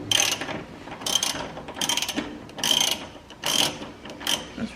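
Ratchet wrench loosening a 14 mm suspension bolt on a Honda Civic during a coilover install, giving several bursts of quick metallic clicking separated by short pauses, close and moderately quiet, with no talk.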